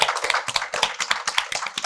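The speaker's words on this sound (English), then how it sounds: "If we can have another round of applause for our speakers." Audience clapping for speakers at an entrepreneurship talk, a close, dense run of individual hand claps with a quick, uneven rhythm, loud and without voices.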